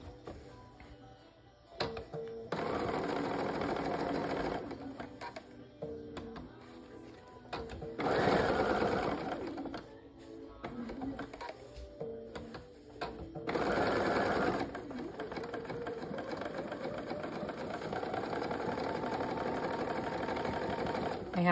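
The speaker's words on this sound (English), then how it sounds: "I have a Bernina 570 with built-in dual feed." A Bernina 570 sewing machine with built-in dual feed stitches fabric in several bursts of rapid mechanical whirring, separated by short pauses, with a low hum running throughout.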